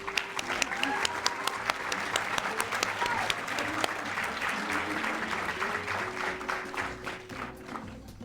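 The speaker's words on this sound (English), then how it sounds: "Let's give them all a round of applause." An audience applauds the organizers of a school district's Hispanic and Latin American Heritage celebration, the clapping steady and moderately close, with scattered cheers and a few voices over it before it begins to thin toward the end.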